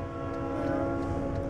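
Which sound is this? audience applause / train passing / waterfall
train passing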